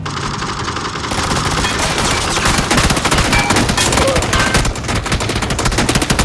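Sustained automatic gunfire from an M249 machine gun in the video game PUBG, dense rapid bursts running loud and continuous through most of the stretch, with game ambience underneath and no clear talk.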